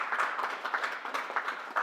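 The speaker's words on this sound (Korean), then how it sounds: "네, 박수 좀 부탁드립니다." Audience applause at a plaque presentation ceremony during a 2021 industry-academia exchange meeting for partner companies: a short, steady patter of many hands clapping, moderately loud throughout.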